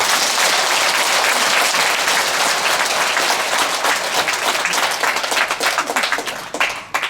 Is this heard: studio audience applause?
yes